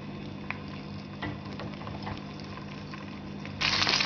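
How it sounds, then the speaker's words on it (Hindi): Cut okra sizzling in about half a cup of hot oil in a pan, a steady soft bubbling hiss that swells into a louder, brighter crackle near the end as the okra goes in. "सबसे पहले हम एक पैन लेंगे, उसमें 1/2 कप ऑयल ऐड करेंगे और जो हमने कटिंग की हुई भिंडियाँ थी वो इसमें ऐड करेंगे।"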